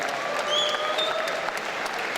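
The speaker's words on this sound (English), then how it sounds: "massive round of applause for both of these guys, please" Crowd applause at a combat sports fight night after an 80 kg quarter-final bout, steady clapping from a large audience with a few whistles and cheers mixed in.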